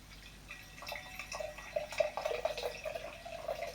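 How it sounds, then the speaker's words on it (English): Cask beer pours from the tap of a 2-litre stainless steel growler dispenser into a glass, a close, faint liquid trickle with small drips and a rising fill tone over a quiet room. "We're just going to pour some beer off on here now"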